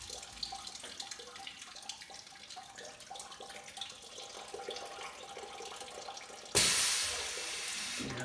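A Pixie tester flushes water in a sudden loud rush that starts late and continues steadily, following a stretch of busy, clattering background noise.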